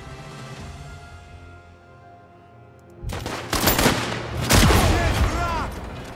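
Gunfire in the video game Last Train Home, quiet at first under game sounds, then loud bursts of rapid shots and booms crowding together in the second half.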